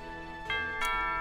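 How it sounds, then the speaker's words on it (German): Two bright electronic doorbell chimes sound in quick succession in Pokémon Sword, the second tone higher, over a steady sustained game music backdrop. "Ding dong, es hat geklingelt, wer ist denn da?"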